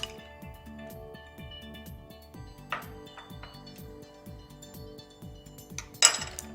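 A spoon clinks rhythmically against a bowl while salt and pepper seasoning for fish is mixed, steady repeated light taps with a sharper clatter near the end, close up and without speech.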